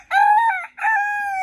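A rooster crows close by, a loud, clear two-part call with a short break in the middle, alone without talk.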